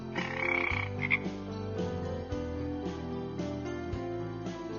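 A frog croaks repeatedly in short, throaty bursts, clear and fairly close, with a steady rhythm over a soft background.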